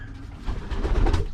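Racing pigeons cooing close by in a breeding loft, soft low throaty coos repeating and swelling in a steady rhythm, with no talking.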